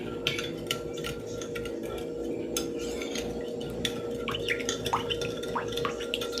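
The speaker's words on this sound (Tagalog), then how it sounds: "Haluin natin." A utensil stirs vegetable fritter batter with onion and green and bird's eye chilies in a bowl, giving soft repeated clicks and wet scrapes over a low background hum.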